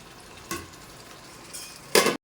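Chennai-style wedding biryani cooking on full flame gives a faint sizzle with a couple of short stirring or lid scrapes, the last one loudest just before the sound stops.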